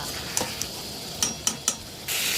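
Firm potatoes stir-fried with ground spice paste alongside cauliflower, a faint steady sizzle punctuated by a handful of sharp ladle clicks and scrapes against the pan, then a louder sizzle swelling at the end.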